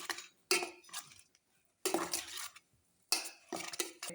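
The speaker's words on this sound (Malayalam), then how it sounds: "ഒന്നും കൂടി നമുക്ക് മിക്സ് ആക്കാം." Food with a little coconut oil is stirred and mixed in a pan in three separate bursts of scraping and clattering utensil strokes, with quiet pauses between them.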